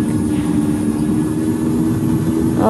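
Simulated airliner engines roar steadily during a takeoff roll in the Infinite Flight game, flying from Balikpapan to Berau. The sound is a loud, continuous rumbling drone with a high whine, with no voices over it.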